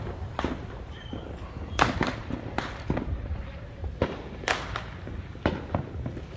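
Fourth of July fireworks go off in a series of sharp bangs and cracks, several loud reports spaced irregularly over a low background rumble, heard from a short distance.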